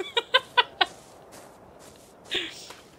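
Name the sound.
bird clucking in ARK: Survival Evolved video game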